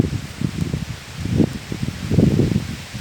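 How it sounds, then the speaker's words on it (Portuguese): Strong gusty wind thrashes through leaves outdoors on a cold, windy day, a continuous close rustle swelling in uneven surges. "Uma ventania que dá gosto."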